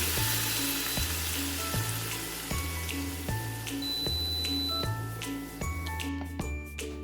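Chicken lumpia with a togue filling fries in hot oil on a stove, giving a loud, continuous sizzle with crackling pops and a regular low periodic thump underneath.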